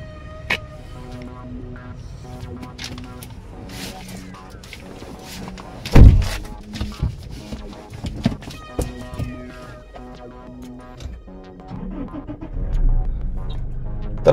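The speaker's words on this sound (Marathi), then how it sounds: "तर आता गाडी स्टार्ट झाली।" A Toyota Innova Crysta 2.8 Z diesel automatic starts with a sudden thump of cranking partway through, followed by a low engine rumble that builds toward the end among quieter background sounds.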